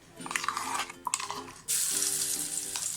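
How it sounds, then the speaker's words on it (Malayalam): Ground prawn masala paste hits hot coconut oil in a pan with a brief stir and clatter, then bursts into a loud, steady, close sizzle for prawn mulakittathu. "ഇനി നമുക്ക് ഈ ചൂടായ വെളിച്ചെണ്ണയിലോട്ട് നമ്മൾ അരച്ച് വെച്ചിരിക്കുന്ന ഈ മിക്സ് ചേർത്ത് കൊടുക്കാം."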